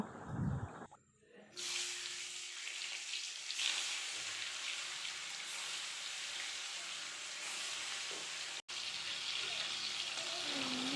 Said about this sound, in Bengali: প্রথমেই লবণ হলুদ মাখিয়ে মাছগুলিকে তেলে ভেজে নেব